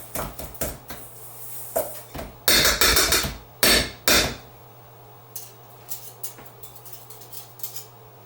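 Fork creaming shortening and sugar in a bowl for a rhubarb upside-down cake, with irregular scraping and clinking strokes against the bowl, close and moderately loud, in bursts with short pauses.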